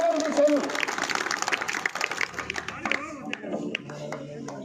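Audience clapping at a public gathering honoring a municipal chairman, scattered hand claps mixed with crowd murmur and a voice at the start, thinning into irregular claps toward the end.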